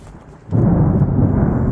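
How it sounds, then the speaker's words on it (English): Loud rumbling thunder rolls in suddenly during a storm on a mountain trail hike, a deep sustained roar that swells up after a quieter opening and carries on without voices. "Sounds like a trivial storm to me."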